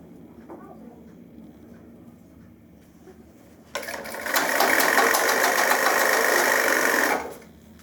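A tailor's sewing machine stitches a trouser seam: after a quiet start it whirs up into a loud, steady, close mechanical run of several seconds, then stops abruptly.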